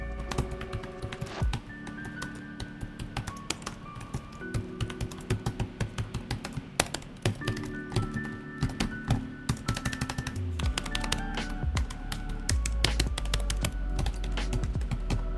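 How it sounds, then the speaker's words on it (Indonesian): Fingers type steadily on the keyboard of an Asus ExpertBook PM3 laptop, a dense run of close, crisp key taps with occasional heavier thunks, continuing for the whole stretch without talk. "sekarang kita coba feel-nya dari keyboard ini"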